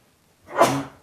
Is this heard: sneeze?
yes